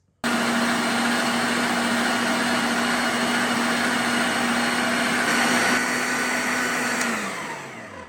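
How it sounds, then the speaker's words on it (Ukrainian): A steady, loud motorized whir of a meat grinder grinding liver runs continuously for several seconds, then slows and fades as the motor winds down. "Я буду перекручувати на м'ясорубці."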